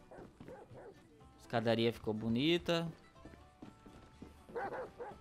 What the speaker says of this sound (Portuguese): Tem um cachorro latindo.